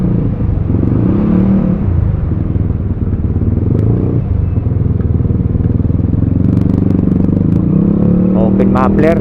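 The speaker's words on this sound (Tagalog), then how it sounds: "Nag-open muffler ka na." A Yamaha Aerox scooter with an open muffler revs loudly nearby amid traffic, a rough buzzing engine with rising revs and crackling bursts, while people talk over it.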